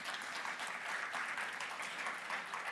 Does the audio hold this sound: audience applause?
yes